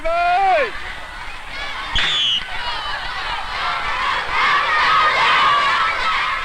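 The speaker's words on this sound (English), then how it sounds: "I can hear all of Blue House cheering." Blue House supporters shout and cheer at a school race, a loud continuous crowd roar with children's high voices, a brief squeal near the start and rising bursts of excitement throughout.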